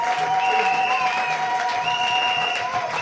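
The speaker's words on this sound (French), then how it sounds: "Acclamez le Seigneur Jésus-Christ" A church congregation applauds in a steady, sustained wash of clapping. Sustained musical tones ring over the applause.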